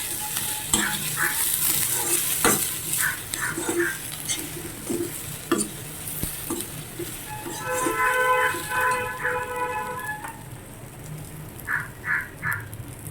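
Brinjal and potato pieces fry with red lentils in a pan, giving a constant close sizzle with scraping stirs. Clicks and a passing train-like rumble are heard, along with a few bird-like calls further off.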